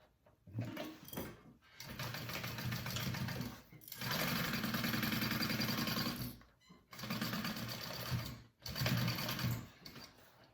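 Sewing machine stitching a backpack closed, running in several bursts of fast, steady mechanical whirring separated by brief pauses, close and loud.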